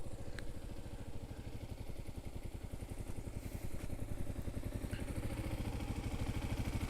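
A Kawasaki KLR motorcycle rides through sand, its single-cylinder engine thumping in a fast, even pulse, heard faintly at a distance and holding steady throughout.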